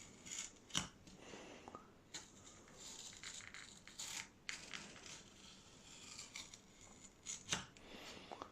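Blades snip and crunch through two layers of upper wing covering on a model aircraft, a run of short irregular cuts and crinkles spread across the stretch at close range with no talking.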